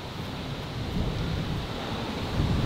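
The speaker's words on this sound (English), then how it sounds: "Quite windy, isn't it now?" Steady outdoor wind roaring and buffeting across a golf course, broadband rumble with gusts swelling louder near the end, no voices.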